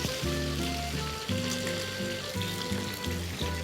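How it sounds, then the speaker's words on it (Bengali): Shing fish frying in hot oil for a bitter-gourd curry, giving a steady close hiss and crackle that runs without a break, layered with a repeating low tonal hum. "মাছটা প্রায় ভাজা হয়ে গেছে, তারপরও আরেকটু ভালোভাবে ভেজে নিব।"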